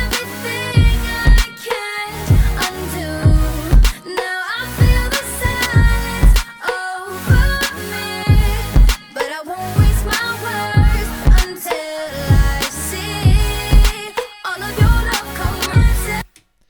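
A recorded vocal track plays back with no timing correction inside a full music mix, singing in rhythmic phrases over punchy beats and bass, loud and continuous throughout.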